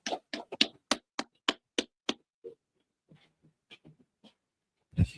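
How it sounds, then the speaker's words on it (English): A group claps on command at a gathering: about nine sharp, crisp claps in quick unison rhythm, then a few scattered softer taps, and one louder burst at the close, all in an otherwise quiet room. "Clap it up."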